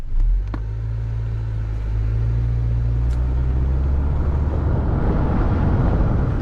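Honda Civic with a CVT pulling away from a standstill: a steady low engine drone that swells smoothly without gear-shift breaks and carries on as a constant rumble, with no talking.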